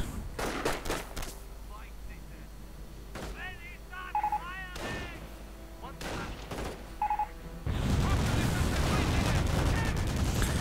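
Sharp bursts of gunfire and a blast ring out in a strategy video game, with a machine gun and a mine going off, the shots loud and irregular while a commentator talks over the battle.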